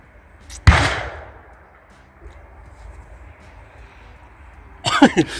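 A single sharp, loud bang from a bird-scaring device in a vineyard in Croatia rings out and decays slowly across open air, followed by quiet ambience, then a person starts talking.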